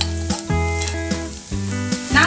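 Onions frying to light brown in a pan give a continuous sizzle with repeated scraping stirs of a spoon, close and clear with no voices.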